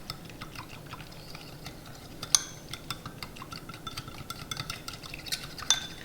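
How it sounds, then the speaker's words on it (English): Spoon stirring a roasted corn salsa dressing of honey, salt and pepper in a bowl, giving a soft steady clinking and scraping with a few sharper taps against the side, close and fairly quiet. "So I'm going to give this a little mix."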